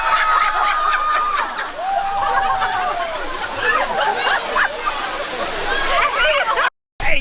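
Waterfall at Luang Prabang, Laos, a steady broad rush of falling water filling the background throughout, with people talking and laughing over it and a brief dropout near the end.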